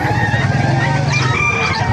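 Roosters crow over one another at a crowded chicken market in Calumpit, Bulacan, with several overlapping calls and clucking from the fowl in a dense, steady din.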